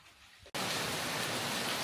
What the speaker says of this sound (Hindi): बहुत तेज़ बारिश आ गई है